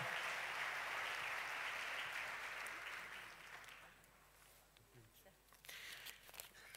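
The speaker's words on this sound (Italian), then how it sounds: "ricevono naturalmente il vostro applauso" Applause from an audience, dense and steady at first, then fading out over a few seconds to quieter room sounds.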